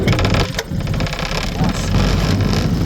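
A boat's four-stroke outboard engine ticks over and picks up with a little throttle, a loud, close, rough mechanical chugging with some knocking, under talk.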